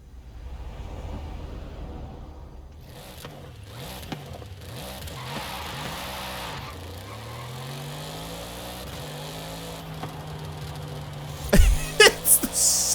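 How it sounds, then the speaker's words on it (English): An Audi RS7 engine from the video game Forza Horizon 5 revs and shifts through the gears, its pitch rising and dropping in repeated sweeps, and then it spikes sharply with a loud burst near the end. "Audi RS7. What's this sound like?"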